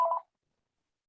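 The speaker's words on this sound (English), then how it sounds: "is that your phone?" A phone gives off a single short electronic beep, bright and clear, then silence.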